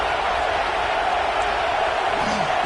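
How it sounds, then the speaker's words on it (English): A stadium crowd at a USC football game roars steadily as the defense defends near the goal line, a dense continuous wash of distant cheering with faint commentary underneath. "The crowd really making some noise now, trying to help out this defense to get this stop near the goal line."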